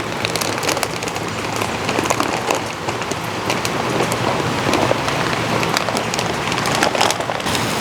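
Tater tots frying in canola oil on a Blackstone griddle, a steady, dense sizzle and crackle running evenly throughout with no voices.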